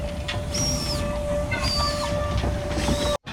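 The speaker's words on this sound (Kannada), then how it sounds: "1907ರಲ್ಲಿ ಪಟಿಯಾಲಾದ ಮಹಾರಾಜ ಭೂಪಿಂದರ್ ಸಿಂಗ್ ಅವರಿಗಾಗಿ ಸಿದ್ಧಪಡಿಸಿದ್ದಂತಹ ಮೋನೋ ರೈಲು ಇದು." A 1907 Patiala State Monorail train built for the Maharaja of Patiala, heard at a rail museum: a steady mechanical rumble with a sustained tone and repeated squealing whistles, with no voices.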